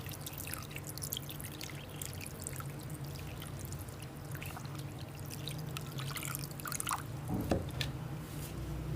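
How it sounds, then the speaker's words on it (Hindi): Plain water is poured over strained chhena, fresh curdled milk cheese for rasgulla, in a home kitchen, making a soft, fairly faint splashing trickle with a few drips and a brief louder splash near the end. "इसके ऊपर हम सादा पानी डालेंगे ताकि जो हमने सिरका डाला था उसका असर ख़त्म हो जाए"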